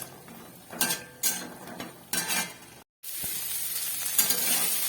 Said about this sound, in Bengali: একটু নাড়াচাড়া করবো, তাহলে বড়িগুলো ভাজা হয়ে যাবে